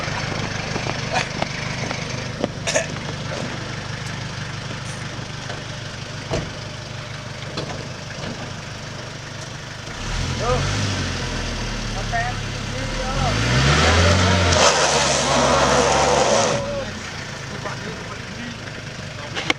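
An old Ford Ranger engine labours on a steep climb at Krakalan, its strained, uneven drone swelling louder in the second half while people talk nearby.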